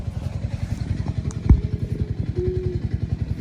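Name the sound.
motorcycle passing by in a village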